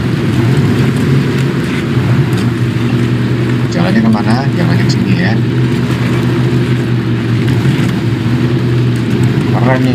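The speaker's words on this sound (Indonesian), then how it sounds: "Suara mesin itu kasar kayak suara mesin balap ya" A rough, harsh truck engine revs continuously in the off-road driving game Snowrunner while the truck crosses ice, a loud, steady low drone that stays level for the whole stretch.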